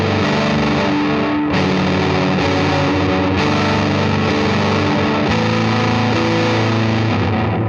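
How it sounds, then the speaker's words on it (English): Ambient electric guitar chords sent through reverb and then into distortion, producing a loud, gnarly, saturated wash with sustained washy tails and fresh strums every couple of seconds. "if I change the reverb going into distortion from the signal path"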